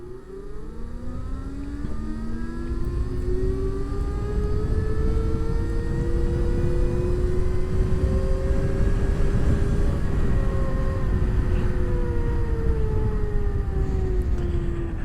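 Ola Roadster X 2.5 kWh base electric motorcycle being ridden, a rising and falling motor whine with harmonic tones sweeping upward, holding, then easing down over steady road and wind noise, close and fairly loud with no talk.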